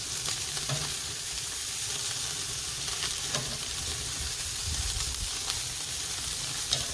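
Steak searing on a Chud Box cooker gives a steady, close hiss and crackle of sizzling fat with scattered pops throughout, no voices.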